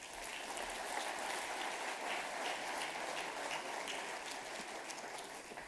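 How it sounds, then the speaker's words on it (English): An audience at a business summit applauds as panelists walk onto the stage, a soft, even wash of clapping heard from a distance that runs continuously and fades slightly at the end. "Please, a round of applause."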